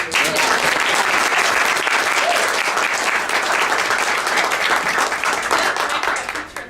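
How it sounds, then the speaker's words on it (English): An audience bursts into loud, continuous applause for a performer. Dense clapping holds steady for several seconds before tapering slightly at the end. "Let's give Greg a round of applause"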